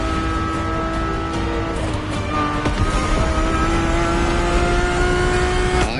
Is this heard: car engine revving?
yes